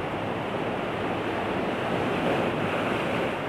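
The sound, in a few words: ocean waves on Pecaron beach, Kebumen, Java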